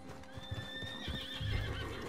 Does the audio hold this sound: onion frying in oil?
no